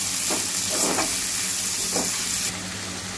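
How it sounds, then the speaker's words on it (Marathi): Garlic, ginger, coriander and cashews sauté in a pan for egg biryani, giving a loud, constant sizzle. A few soft stirring scrapes are heard along the way, and no one speaks. "आणि थोडी कोथिंबीर घालते आहे। हे आपल्याला चांगलं परतून घ्यायचं आहे।"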